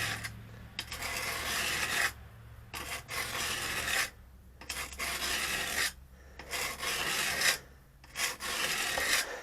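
Wood chisel sharpened by hand on a stone, around 200 grit: repeated gritty rasping back-and-forth strokes in a steady rhythm with short pauses, close and clear with no talking.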